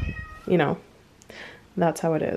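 A pet cat meows in several drawn-out, wavering calls close to the microphone, with someone talking casually in between and over the meows.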